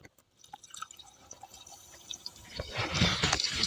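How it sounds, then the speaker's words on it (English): Sparse drips at first, then a rising rush of water filling a water filter housing, growing louder and fuller toward the end. "we'll watch this fill with water slowly."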